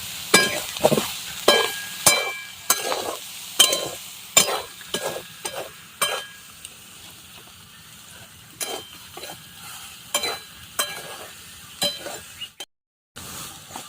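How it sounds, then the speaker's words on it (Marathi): Soybeans frying in oil and salt in a pan for a dry bhaji, stirred with a utensil that clinks and scrapes in irregular strokes over a steady sizzle, the stirring thinning out before a short cut to silence near the end. "तेल आणि मीठमध्ये दोन मिनटं मी शिजवून घेणार असं ढवळत राहायचं आहे"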